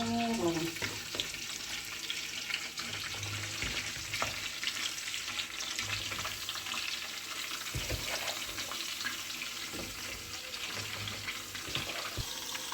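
Meat sizzles in a pot for a dimlama stew, a steady loud frying hiss with scattered clinks and scrapes as it is stirred, with no voices.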